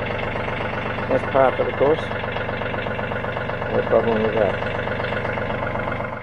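A TYM T413 tractor engine idles steadily in the background, a continuous low mechanical hum, while someone talks over it close by.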